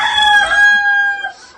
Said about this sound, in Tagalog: super ingay ng manok talaga